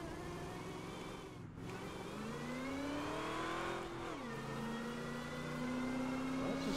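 A car in GTA accelerates hard, its engine whine climbing steadily in pitch, then dipping briefly with a gear change before rising again. The engine is close and loud, with no talk over it.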